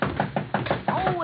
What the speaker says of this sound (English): he's making so much noise he can't even hear my knock